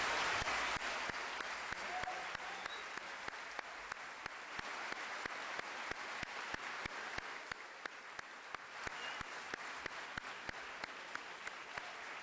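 Audience applause at the opening ceremony of FIA 2018 for the Costa Rica Youth Symphony Orchestra and its conductor: a sustained, dense wash of many hands clapping, steady and fairly loud for the whole stretch, with no voices over it.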